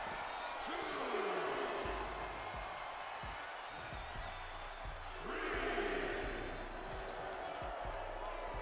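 A crowd at a wrestling tournament roars and cheers with surging waves of noise, while mat thuds and slams ring out and a commentator talks over the din.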